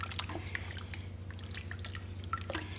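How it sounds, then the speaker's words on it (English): A spoon stirs chicken sauce piquante mixture in a pot, with soft wet squelches and light clinks over a steady low background hum, close and moderately quiet. "stir that around."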